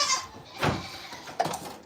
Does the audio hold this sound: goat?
yes